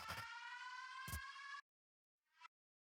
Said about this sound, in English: because I'm making sirens